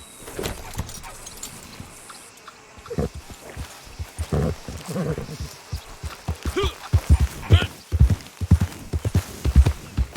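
Horse hooves clip-clopping in Red Dead Online as a rider mounts and sets off, quiet at first, then a steady close rhythm of hoofbeats growing louder.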